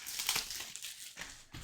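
Soft plastic wrap on a 2023-24 Upper Deck Series 2 hockey card box crinkles close up in a few quick, crackly bursts with short pauses between them.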